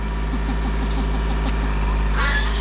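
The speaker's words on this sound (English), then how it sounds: "Not sure if you can hear us with the tractor in the background." A low, steady tractor engine drone rumbles continuously beneath the scene, with a faint rhythmic chugging nearby.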